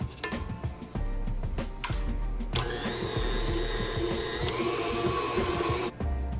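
A spatula scrapes steadily around a mixing bowl of sweet dough mixture, giving close, continuous rasping and clattering strokes with a few short pauses.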